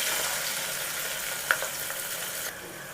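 Sliced onion fries in hot coconut oil in a pan, giving a steady close sizzle with one brief sharp tick midway before the frying noise drops slightly.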